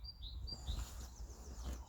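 Small birds chirp outdoors in short high tweets scattered through a quiet background, fairly faint and with no voices, forming a calm ambient backdrop.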